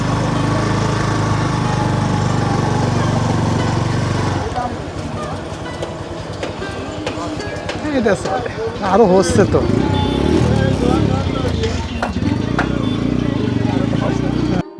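A motorcycle rides along the Marine Drive road in Jhalokathi, its steady engine drone and wind rumble running continuously while a rider talks over it.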